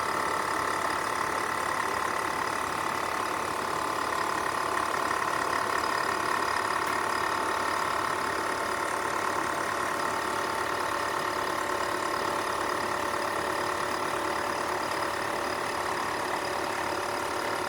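A Profi Cook PC-VK1080 vacuum sealer's pump runs with a steady, fairly loud motor hum and whine that holds evenly from start to finish.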